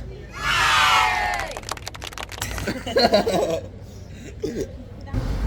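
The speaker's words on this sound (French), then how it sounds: "on peut l'applaudir" A short burst of cheering from a small group, loud and excited at first, followed by scattered claps, chatter and laughter that fade into casual talk.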